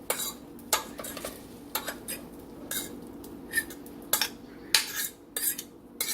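Shredded slow cooker chicken is stirred back into its juices, with a utensil repeatedly scraping and clinking against the pot in an irregular rhythm of close, sharp metallic taps over a faint wet background.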